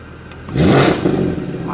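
Mercedes C63 AMG engine revving hard with its exhaust valves open, a loud rising roar that swells after a short lull and holds briefly before easing off.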